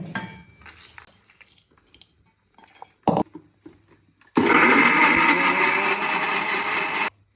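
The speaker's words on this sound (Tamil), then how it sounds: "நீங்கள் அதுக்குள்ளே மிக்ஸியில் போட்டு அரைச்சிக்கலாம்" An electric mixer grinder blends Chettinad chicken curry masala in a home kitchen. After a few soft clinks, a loud, steady whirring roar runs for about three seconds, then cuts off abruptly.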